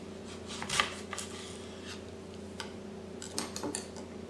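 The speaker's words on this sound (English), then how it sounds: "And then cut the onion in half." A knife cuts an onion in half on a board with a few soft, close thunks and scrapes, a sharper knock near the start and another small cluster toward the end, over a low steady kitchen hum.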